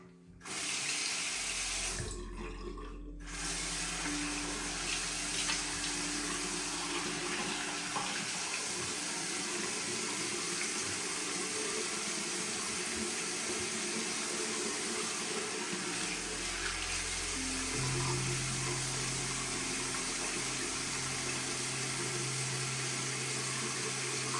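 Tap water runs steadily into a bathroom sink for rinsing off after a razor shave, a continuous close splashing flow that carries on for the whole stretch with no talking.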